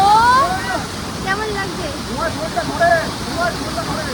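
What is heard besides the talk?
Rock Garden waterfall in Darjeeling roaring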